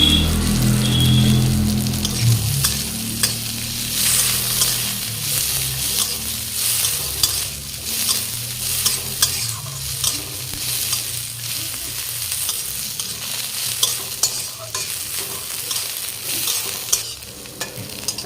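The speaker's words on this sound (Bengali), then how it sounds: "আমি কিছু কাজু বাদাম আর কিশমিশ আমি ঘি দিয়ে ভাজা করে তুলে নেব।" Cashews and raisins frying in hot ghee in a kadai while being stirred, a dense crackling sizzle up close with scraping stir strokes and a louder burst at the start, no voices.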